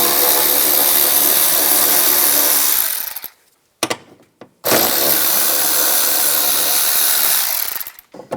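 A 10mm socket spinning a nut off the door of a 2006-2011 Cadillac DTS, heard as two loud, steady, close-up whirring runs separated by a short break and a brief blip.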